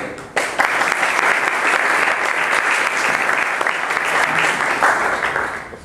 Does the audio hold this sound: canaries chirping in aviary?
no